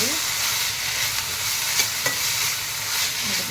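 Continuous sizzling of green chillies frying in hot oil, with occasional scrapes of stirring, close and fairly loud, no voices.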